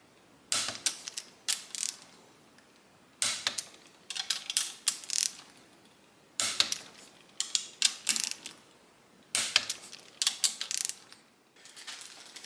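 A hand ratchet clicks in quick bursts while tightening the bolts on the cam cover of a Harley-Davidson Twin Cam big-bore engine being swapped into a 1987 FXRS-SP, a steady rhythm of rapid metallic clicking with short pauses between strokes.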